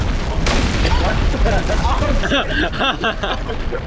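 In a battle royale video game, a player blows up with a loud booming explosion amid gunfire and game noise, followed by chaotic voices talking over it.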